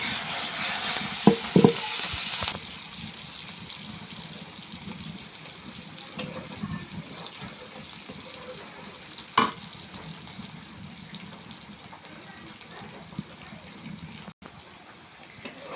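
Spice paste fries in a pan and is stirred, giving a steady sizzle with scraping strokes and a few sharp clinks. A louder burst opens the passage, then the frying settles into an even, moderate hiss.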